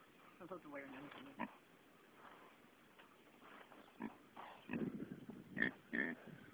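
A pig grunts and oinks up close in a run of irregular snorts and squeals, quiet at first then growing busier and louder toward the end.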